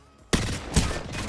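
Apex Legends gunfire bursts out suddenly in a dense volley, loud and sustained, with a second heavy shot hitting partway through and no talking over it.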